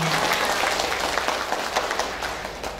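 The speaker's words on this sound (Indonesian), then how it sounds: "Tepuk tangan buat semuanya." Audience applause at an Islamic parenting talk, steady dense clapping from a crowd filling the whole moment, loud and continuous.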